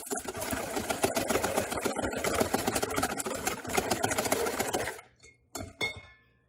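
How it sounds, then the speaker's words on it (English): Gluten-free muffin batter is whisked in a bowl, a dense run of quick clinking strokes that stops near the end, followed by a few brief taps. "Whisk it up again."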